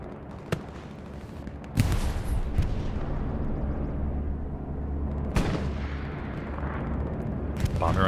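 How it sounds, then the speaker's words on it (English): Bombing run explosions in Hell Let Loose, a competitive World War II shooter: sharp blasts near the start, then a deep heavy rumble with two big booms around the second and fifth seconds, followed by scattered lighter impacts and rolling thunder. "Bombing run on its way north to south for the Axis."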